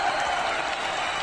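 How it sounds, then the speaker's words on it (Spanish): Steady dense clapping from a studio audience on a Spanish-language entertainment show, a brief continuous burst of applause with no voices. "Aplausos para Tini Tini Tini."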